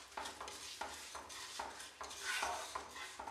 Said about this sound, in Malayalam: ഈ തേങ്ങയായിട്ട് നന്നായിട്ട് മിക്സാക്കി കൊടുക്കുക.